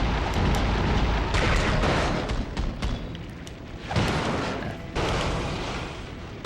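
The Wall of Fire attack in the 2005 GameCube game Fantastic Four roars as a dense, continuous burning blast punctuated by repeated thumping impacts and bursts over several seconds.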